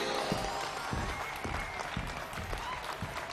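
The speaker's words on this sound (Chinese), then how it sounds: "掌声有请" A studio audience at a televised health talk show breaks into steady, full applause to welcome a visiting dermatologist, dense clapping filling the room throughout with no speech over it.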